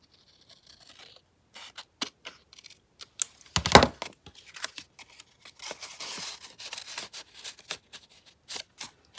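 Scissors snip through paper in a quiet room, a series of sharp, irregular close-up cuts with one louder crunch near the start and brief pauses between strokes.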